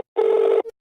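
A single short telephone keypad tone sounds clearly and alone for about half a second, followed by a brief fainter blip.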